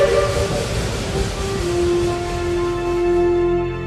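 A steam train rolls along with a loud sustained whistle tone rising over a steady chugging, hissing rumble, close and continuous throughout.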